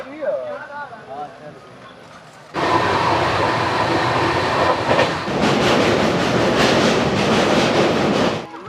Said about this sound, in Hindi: इस ट्रेन की स्पीड है 110 या 11 किलोमीटर के आसपास।